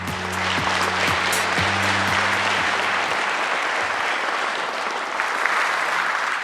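Steady, dense applause from a large audience at a government policy-report event, loud and continuous throughout, with a low sustained musical tone underneath during the first half.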